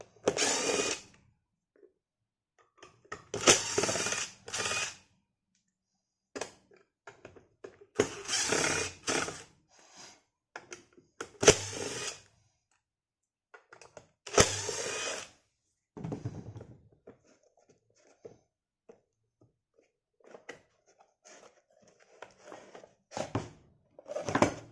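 A power screwdriver backing screws out of a household electric fan's plastic housing, several separate short whirring bursts with quiet gaps between them, close and fairly loud.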